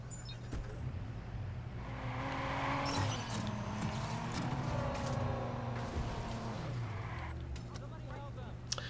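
Car engine from the Watch Dogs video game, a steady low drone that swells as the car gets going and holds through the clip, with game music and talk layered over it.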